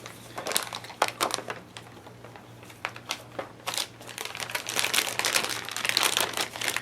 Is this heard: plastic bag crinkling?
yes